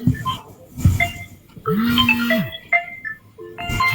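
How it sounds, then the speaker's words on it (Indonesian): A phone ringtone goes off during a religious debate, a melodic electronic tune with repeating tonal notes and pulses, moderately loud and sounding over background noise. "Ada telepon bang."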